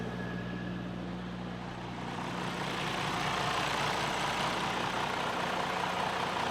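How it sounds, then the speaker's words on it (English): Low, steady rumble of a Freightliner truck engine idling nearby, heard from the engine area, a continuous drone with broadband noise that swells slightly partway through. "Sorry if it's going to be a little bit loud in the engine area."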